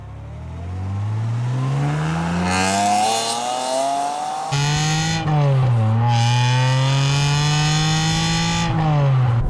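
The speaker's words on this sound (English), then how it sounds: "First time out in the 550 Maranello" A Ferrari 550 Maranello V12 accelerates hard through the gears, its loud, close engine note rising in pitch, dropping at a shift, then climbing again with a steady howl and no talking.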